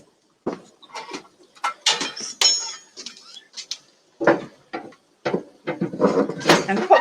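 Cooked prawns are tipped into a metal dish over an open fire for a lord's feast, with a run of clanks, scrapes and utensil clinks close up, broken by short pauses.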